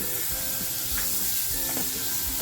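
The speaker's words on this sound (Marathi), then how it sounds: "गॅसवर आहे ना टोप ठेवलेला आहे बटर टाकते" Butter sizzles as it melts in a hot pot on a gas stove while a restaurant-style butter chicken is being cooked, giving a steady close hiss with faint crackles throughout.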